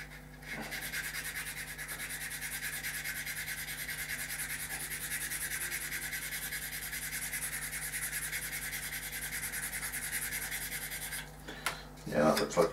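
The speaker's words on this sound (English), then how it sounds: "a sanding stick is probably going to do the job." Continuous rasping of a sanding stick worked back and forth up close for several seconds, ending with a few handling clicks and knocks.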